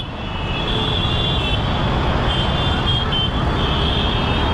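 Heavy road traffic jammed up on a busy street, a dense continuous rumble of engines with a steady high whine above it, loud and close and unbroken throughout.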